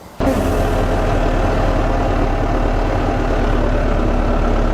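Tractor pulling a Gregoire Besson plough makes a pass across a field, its engine starting abruptly and then running as a loud, steady, low diesel drone close by with no talk.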